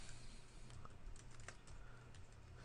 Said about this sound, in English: I'm going to type employee payroll